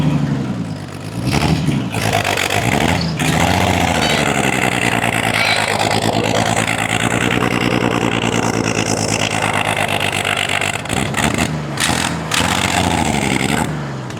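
Homemade skidder engine running in first gear, low range, a steady loud rumbling drone with a shifting whine held for the whole stretch, close by, with a few knocks and clunks.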